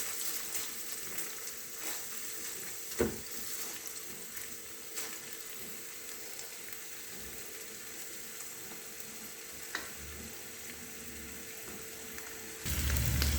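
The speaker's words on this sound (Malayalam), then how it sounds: "ആദ്യം തന്നെ നമുക്ക് ഈ പനീർ വറുത്ത് പോരാം എണ്ണയിൽ." Paneer pieces frying in oil in a kadai give a steady, soft sizzle throughout, with a few brief clinks and a louder burst of sizzling near the end; no one speaks.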